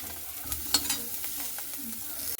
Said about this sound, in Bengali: লঙ্কার সঙ্গে রসুন পেঁয়াজ একসঙ্গে খুব ভালো মতো করে একটু ভেজে নিচ্ছি